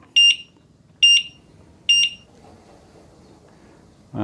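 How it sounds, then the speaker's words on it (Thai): Three evenly spaced electronic beeps from a vehicle turn-signal indicator, sharp and high-pitched, about one second apart, followed by a brief low thump at the end. "สัญญาณไฟเลี้ยวดังครับ"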